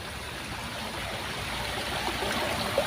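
Waterfall in a botanical garden in Baguio, a continuous broadband rush of falling water heard steadily at moderate distance, with no talking.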